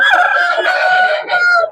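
A 13-year-old rooster at the Sabunchu poultry market crows in one long, loud, close call that holds steady nearly two seconds before trailing off.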